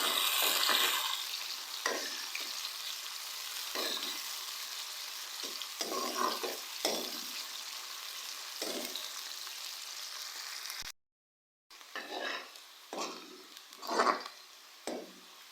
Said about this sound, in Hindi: प्याज का हम लोग हल्का सा गोल्डन कलर आने तक फ्राई करेंगे।